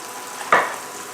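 Onions in butter in a pan give a short, close hiss that flares up once and then fades back to a low, steady background, with no talking.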